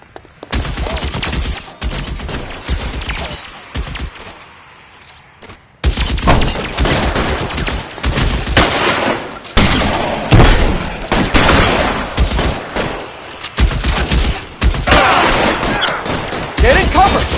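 Shootout gunfire in L.A. Noire: dense, loud volleys of rapid shots and booms rolling almost continuously, a brief lull in the middle, then heavy firing resumes; shouted voices mix in beneath.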